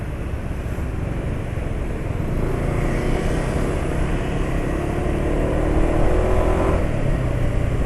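A motorcycle running on Petroasia Revol 20W40 oil roars along at high speed, a loud continuous engine and wind noise that swells toward the end as the throttle is let go.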